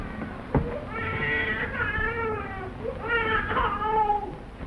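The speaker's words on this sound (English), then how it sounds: "Well, it sounds like a sick cat." A baby wails in long, rising and falling cries in two bursts, thin and strained like a sick cat's meowing, close and fairly loud, heard in a 1936 Western film.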